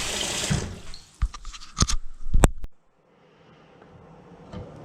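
Hot water splashes and pours into a pot for nettle soup, with bursts of sloshing and clanks, then stops, leaving faint quiet room noise.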